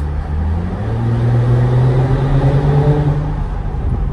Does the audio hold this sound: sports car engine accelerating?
yes